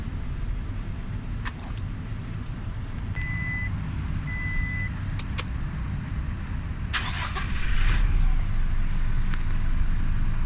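A car fitted with a double pedal lock starts its engine. Two short electronic beeps come first over a low steady hum, then the engine cranks and catches into a louder, close idle.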